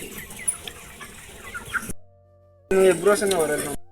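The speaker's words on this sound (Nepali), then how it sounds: "हाम्रो मामाको चाहिँ यहाँ काम चल्दैछ, कुखुरा दाना पानी दिने" Chickens cluck and squawk at close range while being given feed and water, with a busy stretch of clucking, a brief near-silent gap, then another burst of cackling.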